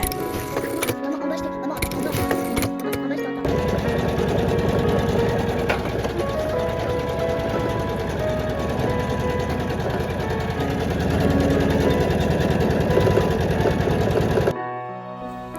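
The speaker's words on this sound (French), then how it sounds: "je couds les petites sangles qui vont aller sur les sacs à dos" A sewing machine stitches small straps for backpacks, its rapid mechanical whir running close and steady for several seconds after a few brief starts, with a voice speaking over it.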